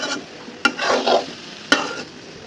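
Spices, yogurt and a paste of nuts with crushed ginger and green chili get stirred in a pan for Kashmiri paneer, a soft steady sizzle broken by two sharp knocks of the spoon against the pan.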